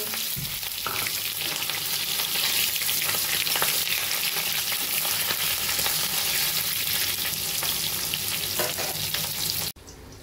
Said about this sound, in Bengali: এবার ওই তেলের মধ্যেই এঁচড়ের পিসগুলোকে ভেজে নেব।